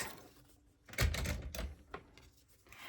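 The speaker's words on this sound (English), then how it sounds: "I need my hole punch so that we can punch a hole in the top" A handheld hole punch bites through the top of a folded paper sheet during a papercraft folio project, giving a single loud crunching thunk followed by a brief rustle of paper nearby.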